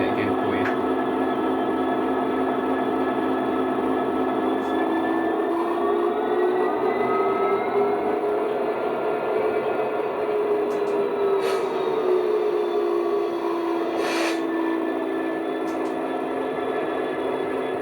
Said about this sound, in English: And there we are, the DCC Sound Class 66 in Kurlos Rail Freight livery by